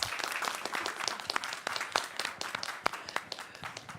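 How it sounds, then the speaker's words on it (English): Audience applause at an Indigenous Peoples Pavilion event during COP28, a dense run of many hands clapping at steady strength for about four seconds, fairly close and with no talking over it. "let's please clap."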